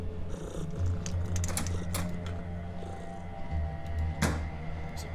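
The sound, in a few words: cat purring in the video game Underrail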